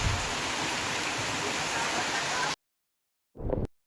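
Heavy monsoon rainwater rushing through a drain cut at a farm, a dense steady wash of flowing water that stops abruptly, followed by silence and a brief faint bump.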